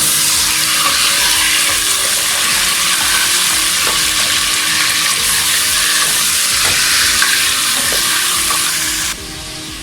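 Mutton sizzles loudly in hot oil in a pot for korma, a dense, steady frying hiss with faint stirring scrapes, briefly dropping in level near the end.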